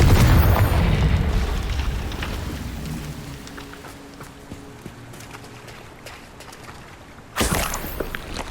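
A Confringo fire spell bursts in Hogwarts Legacy with a deep, loud boom that rumbles and slowly fades over several seconds, then a second sharp blast erupts near the end.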